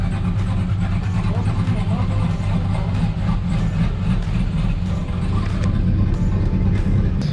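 A 2018 Toyota Tacoma pickup's engine runs with a steady, loud low rumble that holds evenly throughout, with faint higher noise scattered on top.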